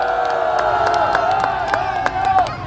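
A crowd at a candlelight political rally cheering and clapping, a dense sustained roar of voices with scattered whoops and claps throughout.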